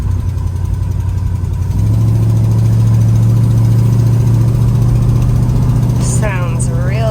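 A 1968 Plymouth Road Runner cruising down the road, its engine a steady low rumble that deepens and strengthens partway through as it pulls, with a voice briefly heard near the end.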